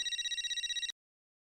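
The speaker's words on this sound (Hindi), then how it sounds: "किसका फोन है?" A telephone rings with a rapid electronic trill, a bright warbling pulse repeating for just under a second before cutting off abruptly into silence.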